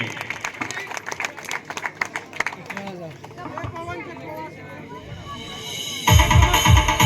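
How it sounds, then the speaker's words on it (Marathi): A crowd at a dance competition prize-giving in Papalwadi, Mahur claps for a second-prize winner; scattered claps mix with an announcer's voice and crowd chatter, then loud music bursts in near the end. "अरे जोरदार टाळ्या वाजवा"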